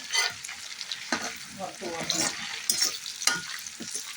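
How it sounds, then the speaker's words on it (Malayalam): Crackling, spattering sizzle of leaves frying in hot oil, close and continuous with irregular pops and stirring scrapes. "ഈ കറിവേപ്പില നന്നായിട്ട് വറുത്ത് പോകും"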